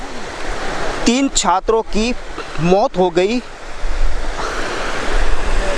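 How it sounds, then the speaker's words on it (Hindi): Water flows over a small anicut dam in a continuous rushing, surf-like roar. A person speaks briefly over it, and the water carries on alone afterward. "एनीकट में पानी की जो आवाज़ें हैं वो आपको सुनाई दे रही हैं।"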